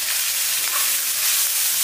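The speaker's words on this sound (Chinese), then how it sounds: "然后不停地给它煸炒" Fermented black beans and garlic hiss in a wok with green peppers as they're stir-fried, a steady loud sizzle with faint scraping, no talk.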